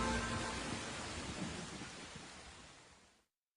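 Thunder sound effect in a dramatized audio Bible reading of Job: a broad, rumbling roll that starts loud and slowly fades over a few seconds, heard alone without voices.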